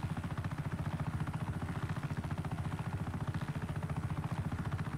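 Helicopter flying in Just Cause 3, a steady rapid rotor chop with a low engine drone, even and continuous at moderate loudness, with no talking.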